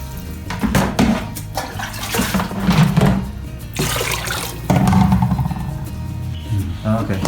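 Water pours into a soup pot over a charcoal fire for a Thai beef soup, a broad splashing wash in several bursts, near and moderately loud, mixed with background voices.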